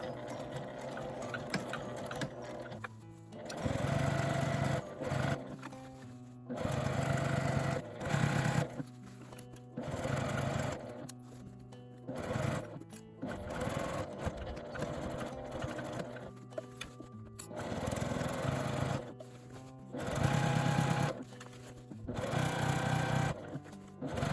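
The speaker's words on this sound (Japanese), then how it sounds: "紐のところは少し硬いですがゆっくりで良いので返し縫いをして縫います。" A sewing machine runs in short bursts while backstitching over the stiff strap of a simple A4 sacoche bag, its rapid needle chatter starting and stopping several times, close and clear.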